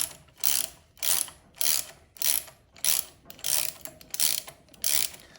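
Milwaukee 4-in-1 lineman's insulated ratcheting box wrench turning a nut: about nine rapid bursts of ratchet clicking in a steady back-and-forth rhythm, close and crisp with no talking.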